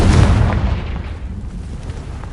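A Confringo blasting spell explodes in the Hogwarts Legacy video game: one heavy, close boom that rolls off into a fading rumble.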